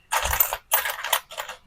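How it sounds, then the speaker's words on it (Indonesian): 1000 rupiah coins clink and clatter in three quick bursts, close and fairly loud, as they are counted out one by one with no talking. "Nih, ini 1000 rupiah guys, tapi dalam bentuk koin"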